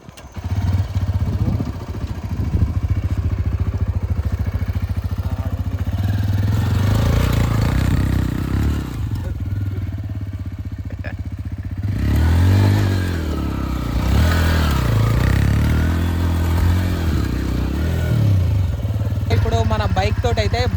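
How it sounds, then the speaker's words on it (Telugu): A motorcycle revving hard for a burnout, its engine droning loud and continuous with rising and falling pitch across the clip, with people talking over it. "బైక్ తోటి అయితే బర్న్అవుట్ కొడదాం"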